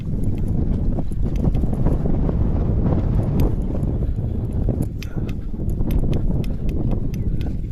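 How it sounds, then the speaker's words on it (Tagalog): Strong wind roars and buffets the microphone without letup, with scattered light clicks and taps mixed into the steady rumble. "Lakas ang hangin."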